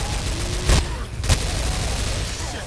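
Gunfire in Left 4 Dead on the Dark Carnival campaign: two loud, sharp shots about half a second apart over a steady background of game ambience, with no speech.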